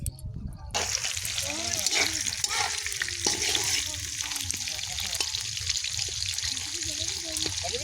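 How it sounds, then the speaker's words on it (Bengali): Pakoras deep-frying in hot oil, a continuous bubbling sizzle with occasional clinks and stirring, close by, while voices talk over it at a family celebration. "আবার গরম গরম পকোড়াগুলো ভেজে নিয়ে যাই"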